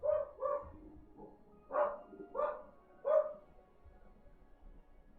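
A dog barks five times in short, clear yelps, two quick ones, then three spaced ones, fairly close, with a quiet room tone between them.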